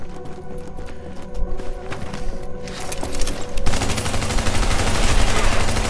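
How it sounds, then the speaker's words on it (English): Video-game SMG fired at point-blank range, a dense, rapid stream of close, loud shots that grows heavier and more continuous toward the end, with no voices over it. "point blank range with a SMG to the face"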